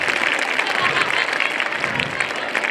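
A hall full of parents applauds schoolchildren at a school's annual Samagam function, a dense, continuous wash of clapping holding at an even, fairly loud level throughout.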